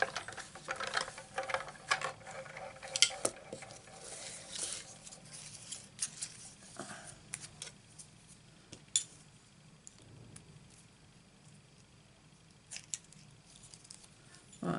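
Scissors snipping out a holly-shaped paper piece for a Christmas card, heard as quiet, close, irregular little cuts and paper rustles.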